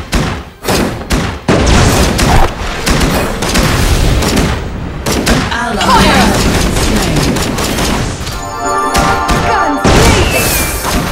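Gunfire in the Legend of Ace video game, heavy bursts of rapid shots with thumping impacts and crashes, loud and dense throughout, with brief pauses between volleys and game voices mixed in.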